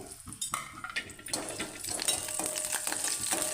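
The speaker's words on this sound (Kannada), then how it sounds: "ತುಪ್ಪ ಕೂಡ ಕಾದಿದೆ ಈಗ ಗೋಡಂಬಿ ದ್ರಾಕ್ಷಿ ಹಾಕ್ಕೊಂಡು ಸ್ವಲ್ಪ ಫ್ರೈ ಮಾಡಿ ಎತ್ತಿಟ್ಕೊಂಡ್ಬಿಡುವ ಸೈಡಿಗೆ" Cashews and raisins frying in hot ghee in a pan on the stove, a steady close sizzle with bursts of crackle and a few stirring clinks, no voices.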